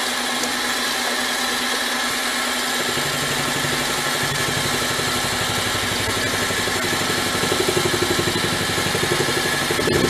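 A mini lathe runs at 715 RPM while cutting metal, a steady droning motor hum with a rhythmic, slightly rising chatter of the cut toward the end, close and fairly loud with no talking.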